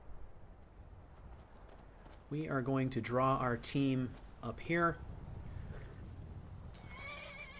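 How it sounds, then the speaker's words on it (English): Horses in the video game Skyrim clop their hooves, and one whinnies near the end, while someone talks over the middle of the clip. "We are going to gather up our horses"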